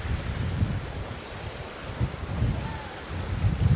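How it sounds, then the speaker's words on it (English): Strong outdoor wind buffets the microphone along a river valley with stepping stones, a steady low rumble with gusty swells and no speech. "Wow, the wind's pretty strong now."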